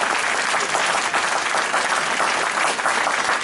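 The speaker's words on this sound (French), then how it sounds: "je voudrais vraiment vous prier de bien vouloir applaudir" An audience at a church gathering honouring a reverend father applauds steadily and densely for the whole stretch, a continuous wash of many hands clapping with no voices standing out.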